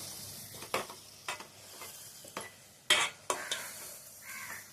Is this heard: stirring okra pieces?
yes